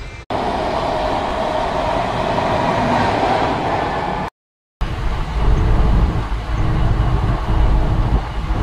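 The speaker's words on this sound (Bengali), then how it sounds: "এই যে ট্রেনে উঠে পড়লাম" Steady low rumble of a moving passenger train heard from inside the carriage, continuous and fairly loud with faint rhythmic wheel clatter, briefly cut off by a short silent gap midway.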